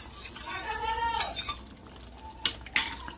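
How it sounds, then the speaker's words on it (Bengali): Cornflour slurry is stirred into soya chilli in a pan, a spoon scraping and clinking against the metal with wet sloshing sounds, close and moderately loud. "কর্নফ্লাওয়ারটা দেওয়ার সময় দিতে হবে আর নাড়তে হবে, একটু ঘাঁটতে হবে"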